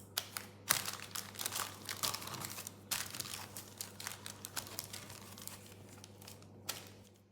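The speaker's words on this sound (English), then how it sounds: "So I'm just going to cover it with some plastic wrap again." Plastic wrap is pulled and stretched over a bowl of bread dough, giving a series of close crinkling and crackling bursts with brief tearing sounds, then quieter rustles.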